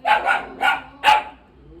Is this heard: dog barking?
yes